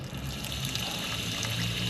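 Water runs through an inline garden hose fitted with a water-quality monitor, a faint, steady rushing flow with no speech.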